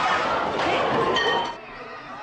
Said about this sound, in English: As the countdown for the opening of the sale began, the crowd surged forward.